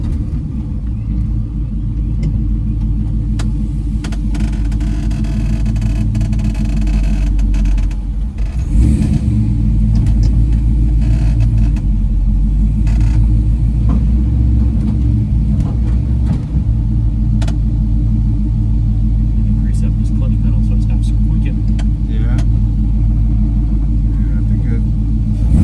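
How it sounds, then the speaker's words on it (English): A 1970 Plymouth Road Runner V8 runs while warming up, a heavy, loud, continuous low rumble that thickens into a stronger roar partway through and holds there, with voices talking over it. "you have to warm up the car"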